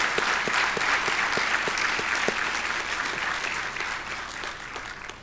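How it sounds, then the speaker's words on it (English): Sustained applause fills a commencement ceremony hall, many hands clapping densely and evenly, loud at first and easing slightly over several seconds, with no speech. "Round of applause."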